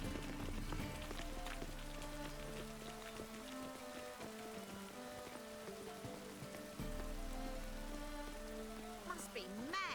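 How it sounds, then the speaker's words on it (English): Steady rain patters on surfaces in The Witcher 3 city of Novigrad, with faint tonal background music and occasional soft splashy footsteps. "Must be mad running around in this rain."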